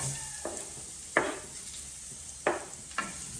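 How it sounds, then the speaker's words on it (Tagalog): Food sautés in a small amount of leftover cooking oil in a pan for a Filipino fish-and-tomato dish. A quiet sizzle hisses throughout, and four distinct stirring scrapes sound at uneven intervals. "ito ay gigisa na natin. Kunti lang na tirang mantika"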